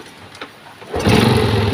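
A Honda Revo Absolute motorcycle engine with a badly worn block head starts after a brief quiet cranking, then catches into a loud, rough, continuous running rumble close by.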